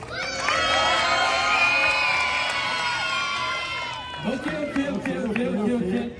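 A crowd at a French battle contest cheers and shouts for a competitor, a loud sustained roar with whoops that breaks into scattered yells and chatter near the end.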